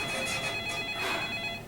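A telephone ringing during a stage play, a steady electronic ringtone with pulsing bursts, fairly loud and continuous with no talking.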